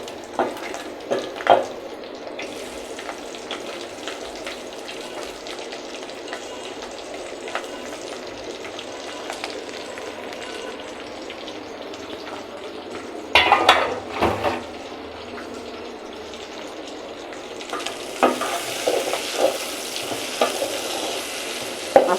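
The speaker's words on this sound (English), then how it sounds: "Okay, now our meat is fried enough to add onions" Beef and onions frying and being stirred in a pot for beef pilau, a steady close sizzle with scraping stirs, a louder burst of clattering around the middle and more vigorous sizzling toward the end.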